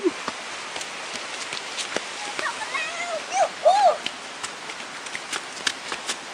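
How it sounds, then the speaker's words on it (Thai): Rushing water from a waterfall ahead on a group tour, a steady broadband roar with scattered splashes, plus a few brief whistle-like tones partway through. "ได้ยินเสียงน้ำตกแล้วนะครับ"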